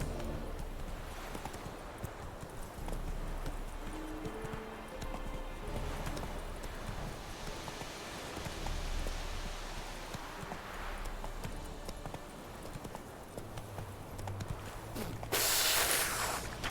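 Horse hooves from The Witcher 3 clop along at a steady gallop, with continuous rhythmic thuds over game ambience and music, close and prominent, with no talking.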